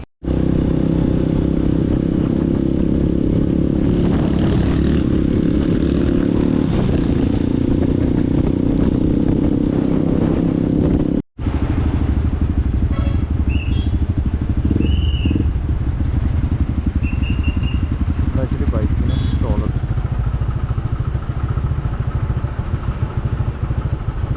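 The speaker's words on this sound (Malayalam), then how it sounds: "ഈ ഒരു റൈഡ് മാക്സിമം കുറച്ച് ത്രോട്ടിലൊക്കെ കൊടുത്ത് നമ്മുടെ വണ്ടിയുടെ ഫുൾ പൊട്ടൻഷ്യൽ അല്ലെങ്കിൽ ടോപ്പ് സ്പീഡ് എത്ര വരെ കയറും എന്നൊക്കെ ഒന്ന് ചെക്ക് ചെയ്യാമെന്നുള്ളൊരു പ്ലാനാണ്" A Hero XPulse Rally motorcycle ridden hard on a highway, its engine droning loud and continuous with heavy wind rush, a brief dropout midway, then a lighter, changing engine note with a few high tonal beeps.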